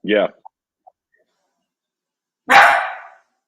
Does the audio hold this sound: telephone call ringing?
no